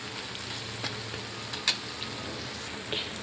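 Boondi, small drops of batter for motichoor laddu, frying in hot oil: a steady, close sizzle with a few sharp pops and crackles, and no talking.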